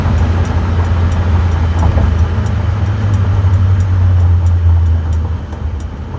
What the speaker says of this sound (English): It's a little windy today, so you're going to hear some whistling here and there.